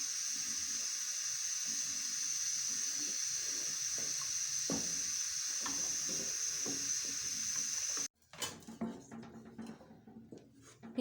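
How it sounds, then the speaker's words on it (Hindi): Beef nihari, thickened with a flour slurry, cooking in a pot with a steady soft bubbling hiss for about eight seconds, then cutting to quieter, uneven clatter and stirring noises. "मैदा ऐड करने के बाद हम निहारी को इतना पकाएंगे कि ये अच्छे से गाढ़ी हो जाए।"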